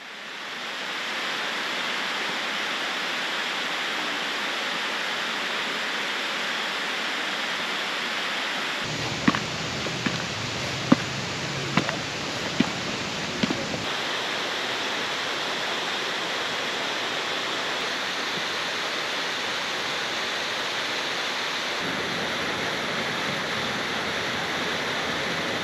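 Water pours steadily down a waterfall beside a stone-stepped hiking trail near Ithaca, New York, a continuous broadband rush that stays constant throughout, with a brief cluster of sharp nearby knocks or footsteps partway through.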